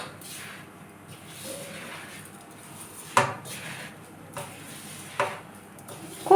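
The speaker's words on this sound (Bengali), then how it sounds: "এবার এই মিশ্রণটাকে ভালো করে মেখে নেব" Batter of flour, coconut, sugar, semolina and palm purée being mixed by hand in a bowl, soft wet squelching and rubbing with a few sharper knocks against the vessel, moderately close.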